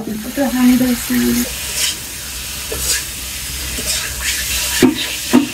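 Curry with potato and taro being sautéed in a pan: a steady sizzle with stirring scrapes and a few sharper clatters, while a voice speaks briefly near the start.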